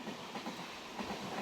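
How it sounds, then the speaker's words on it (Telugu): An Indian Railways express train, number 17250 from Rajahmundry to Tirupati, runs on rails with LHB coaches: a faint, steady rolling rumble with soft rhythmic clicks, heard alone. "ఇప్పుడు ఈ ట్రైన్‌ని ఎల్‌హెచ్‌బి కోచెస్ కింద అందుబాటులోకి తీసుకొచ్చారు"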